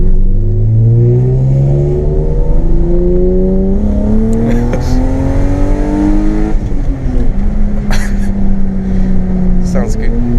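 A BMW E36 running a swapped-in M52 2.8-litre straight-six on a straight-pipe exhaust revs loud and close, its rising and falling harmonic drone sweeping up and down repeatedly, with people talking over it.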